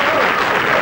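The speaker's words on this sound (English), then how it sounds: "A big round of applause" A brief burst of steady, dense applause from a quiz show audience for the winning champions, loud and continuous.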